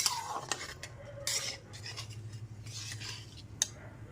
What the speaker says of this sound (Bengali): ডালটা এখানে খুব ভালো মতো মিশিয়ে নিয়েছি